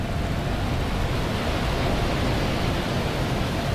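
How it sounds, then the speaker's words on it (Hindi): Water in the video game I Am Fish makes a continuous, even rushing wash, loud and close, with no breaks or other sounds over it. "पानी की आवाज आ ही रही है तो क्या करे"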